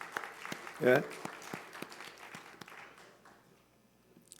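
A church congregation claps during a Sunday service, with a short burst of hand claps and a brief voice near the start before the clapping fades out.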